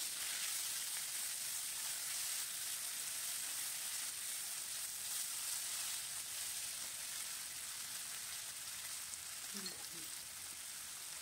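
Two medium-sized chopped tomatoes sizzle as they fry in a pan for a dhaba-style palak paneer, a steady, soft hiss of frying that runs continuously, with a faint stir or clink near the end.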